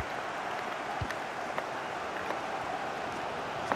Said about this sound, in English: but this crowd have been brilliant.